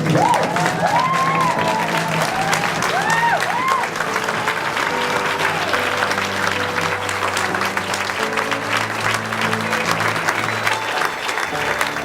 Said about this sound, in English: stand up if you can and give a big round of applause to Mrs. Sonia Brown.